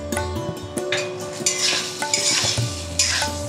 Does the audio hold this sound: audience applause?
no